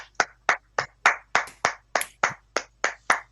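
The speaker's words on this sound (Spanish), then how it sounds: "un aplauso para todas, para todos, para Álvaro" Rhythmic applause for a speaker at a writers' collective event: about a dozen sharp, evenly spaced claps, each ringing out briefly in a quiet room, sounding like a single pair of hands close by.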